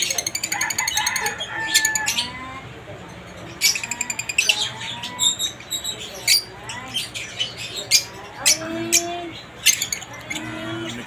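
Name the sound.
opaline lutino and cremino pet birds squawking in an aviary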